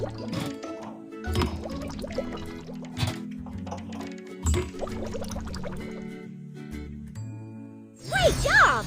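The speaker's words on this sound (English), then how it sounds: "Pour engine fluid by color into tanks." Engine fluids poured into truck tanks in a repair video game, a run of small liquid gurgles, drips and light tinkling clinks over several seconds with a brief louder splash near the end.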